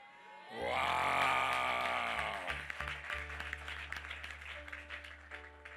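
Church congregation at a special worship service cheering and applauding, a loud swell of voices and clapping that fades into scattered noise with sustained musical tones underneath.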